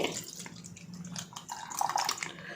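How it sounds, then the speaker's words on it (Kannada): Milk poured from a vessel into a cooking pot for kulfi, a short close splashing trickle that rises slightly toward the end. "ಹಾಲು ಹಾಕ್ಕೊಳ್ತಾ ಇದ್ದೀನಿ. ಒಂದು ಪಾತ್ರೆಗೆ"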